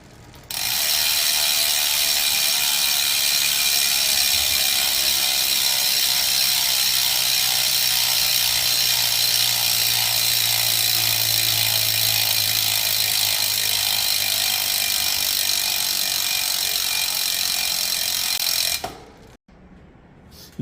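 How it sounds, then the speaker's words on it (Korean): Rear hub ratchet freewheel of a 2023 Giant TCR Advanced 1+ AR road bike clicks in a fast, steady buzzing stream up close, running continuously for most of the clip before stopping abruptly. "2023년 TCR 어드밴스 1 플러스 AR의 라쳇 소리 한번 들어보실게요."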